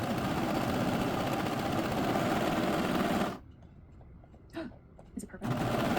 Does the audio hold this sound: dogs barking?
no